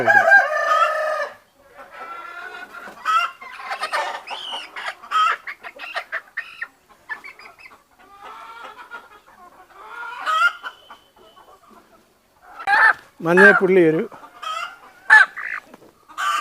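Free-range country chickens cluck close by on a poultry farm while a person talks, and a rooster crows loudly near the end.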